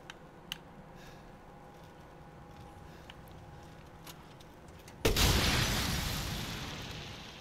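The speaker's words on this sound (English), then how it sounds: "Almost point blank grenade launcher" A grenade launcher round bursts almost point blank in Resident Evil Village: after several seconds of quiet ambience with faint ticks, one sudden loud explosion hits and its broad roar fades out slowly.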